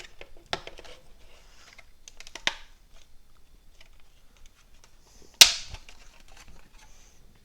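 Plastic tabs on a Subaru STI interior trim ring being pushed and popped out, a few sharp isolated clicks and snaps with quiet fiddling between them, close by.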